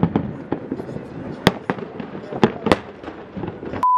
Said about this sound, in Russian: Мы идем на салют.